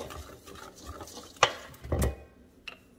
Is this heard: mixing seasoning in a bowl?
yes